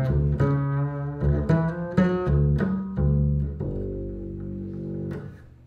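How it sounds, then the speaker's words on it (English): Upright bass amplified through a UB RevSolo pickup with a Fishman BP-100-like tone, a handful of plucked notes with a boomy low end and short decays, ending on a longer sustained note that fades out. "And now we're just getting this very Fishman BP-100 sound."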